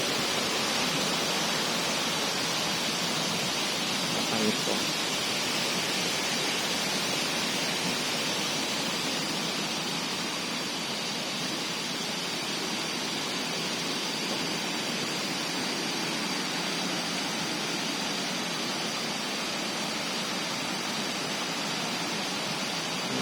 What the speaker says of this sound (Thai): น้ำตกห้วยแม่กะมิ้นหลายชั้นมากเลย